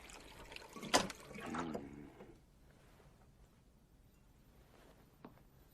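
Water being poured, a brief splashing gush into a container that rises and then tapers off to near silence, fairly faint with a small drip near the end.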